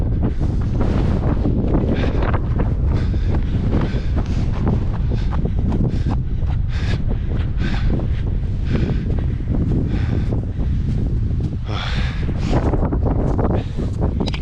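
Strong wind gusting across a hillside near Grindavik, Iceland, buffeting the microphone in a loud, continuous roar with rustling surges.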